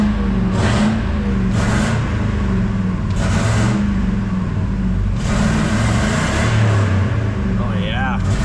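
A Ford 5.4 truck engine running on old gas revs up in repeated throttle bursts, a loud, close rumble swelling and easing, with people talking over it.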